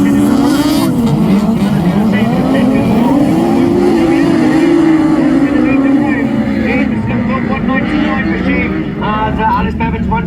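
Race cars at a ladies and juniors national race meeting pull away from the starting line, a loud, continuous engine roar with rising and falling pitch as they accelerate, running steadily for about ten seconds.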